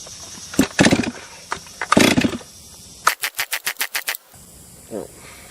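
A Stihl 036 MS360 chainsaw left sitting overnight gets its first start attempt: two hard rasping pull-cord yanks, followed by a quick run of about eight sharp rhythmic pops, then a faint sputter, all close to the listener.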